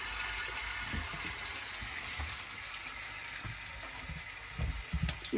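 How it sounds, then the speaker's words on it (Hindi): Chicken seekh kebabs shallow-fry in oil over medium to low heat, giving a steady soft sizzle and hiss with small scattered pops and bubbling crackles throughout, fairly close and continuous with no voices. "मैं इनको शैलो फ्राई कर रही हूँ"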